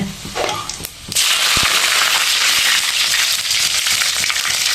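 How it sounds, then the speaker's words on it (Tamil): Dried red chillies and curry leaves hit hot oil after mustard seeds, bursting into a loud, steady sizzle that fills the whole stretch after a brief clatter. "இது நல்லா பொரிஞ்சிச்சு காஞ்சி மிளகாய் சேர்த்துக்கலாம் கருவேப்பிலை சேர்த்துக்கலாங்க"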